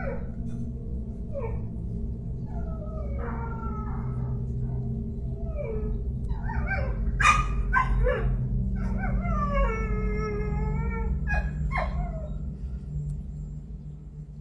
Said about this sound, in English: Her dog is barking at what seems like nothing